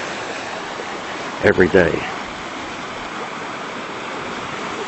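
Small waterfalls and a running stream in a winter park among pine trees, a steady broadband rush of water throughout, with someone briefly speaking over it partway through.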